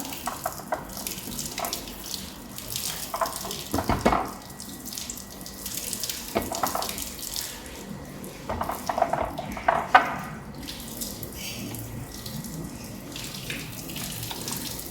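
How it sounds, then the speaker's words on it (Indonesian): Water pours from a kettle over a paper coffee filter in a dripper, a splashing trickle with intermittent louder gushes and light clinks over roughly fifteen seconds, with no talking. "Saya bilas paper filternya."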